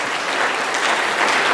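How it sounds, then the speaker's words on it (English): A room full of guests at a high school band banquet clapping, a dense, even wash of close applause holding steady throughout, without any talk over it. "Ladies and gentlemen, big round of applause."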